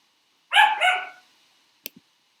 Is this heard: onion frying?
no